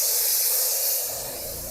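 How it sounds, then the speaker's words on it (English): A steady, loud airy hiss of an HVLP paint spray gun spraying continuously, easing slightly in the last half second. "So you start from the top and just spray towards the bottom"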